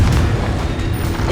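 A Confringo fire spell blasts in the Hogwarts Legacy video game: one loud, dense booming rumble with a heavy low roar that holds for over a second, with no voices.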